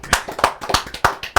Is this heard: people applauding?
yes